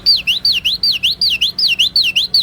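A person whistles an imitation of a wagtail bird call: a rapid series of about a dozen clear, swooping chirps repeated in an even rhythm, loud and close.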